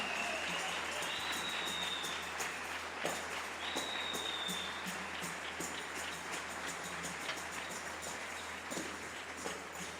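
A church congregation applauds at a Spanish-language service, a dense steady patter of many hands clapping for about ten seconds, with faint whoops and voices mixed in.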